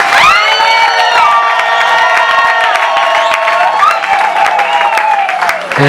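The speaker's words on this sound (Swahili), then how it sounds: "Piga Yesu makofi vizuri" A church congregation claps and cheers loudly, with sustained whoops and high ringing voices over steady clapping throughout.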